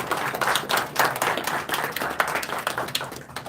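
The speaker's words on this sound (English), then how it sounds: "Can I also please get a round of applause for everyone present here today?" An audience at a Guru Nanak Dev ji Gurpurab celebration in NSW Parliament, Sydney, gives a round of applause, a steady flurry of many hands clapping that holds at an even level throughout.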